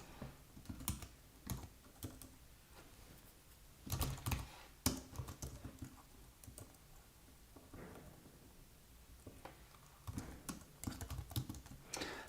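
Rapid typing on a computer keyboard, with bursts of dense clicking keystrokes and brief pauses between runs, close and fairly quiet with no voices.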